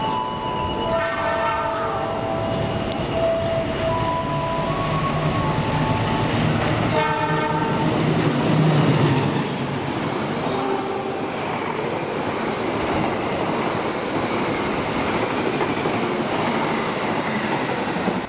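Train hauled by locomotive 206 rushing through a station, its horn sounding in several short blasts over loud rolling wheel noise and clacking that fills the whole stretch.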